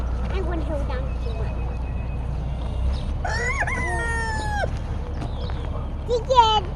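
Chickens cluck and call in a backyard coop on a small home farm, with a louder burst of calls partway through and a voice speaking nearby.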